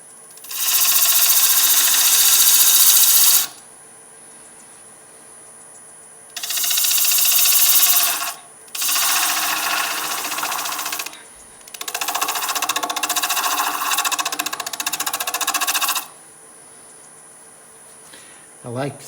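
Power tool plunge-cutting a bevel on a wooden duct end plug, with loud whining bursts of cutting, four separate runs of a few seconds each, separated by quiet pauses.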